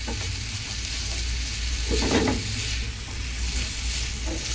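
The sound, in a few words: leftover lechon frying in a pan, rendering fat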